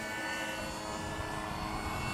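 FMS Ranger 1800mm RC foam airplane flying overhead in wind, a steady electric motor drone with constant broadband whir, moderately loud and unbroken.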